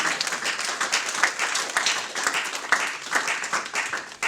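A church congregation at a Sunday service claps and cheers in praise of God, a full, steady burst of applause with uneven peaks and no voice over it.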